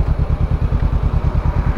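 A 2020 Honda CBR500R with an aftermarket exhaust running steadily nearby, its engine giving a loud, pulsing, throbbing drone with a rapid regular beat and no voices over it.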